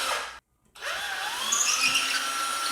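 A power drill bores a hole for an industrial pipe stair handrail bracket, starting after a brief pause and then whining steadily with a rising pitch as the bit works through the material.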